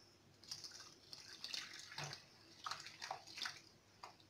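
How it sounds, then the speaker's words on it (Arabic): Water poured from a container onto instant yeast in a bowl while making laminated croissant dough, a near, steady splashing pour with several louder surges, no talking. "ناخذ الخميره الفوريه ونضيف عليها الماء"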